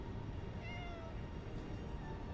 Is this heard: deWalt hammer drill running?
no